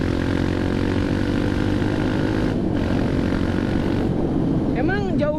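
A Kawasaki D-Tracker with a Norifumi Evo stainless exhaust, fitted with a changed carburetor and CDI, drones steadily at idle and rev, loud and close, with a brief rising rev near the end.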